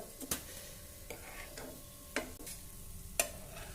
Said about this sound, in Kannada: ಸಣ್ಣಗೆ ಉರಿ ಇಟ್ಟು ಬೇಯಿಸ್ಕೋಬೇಕು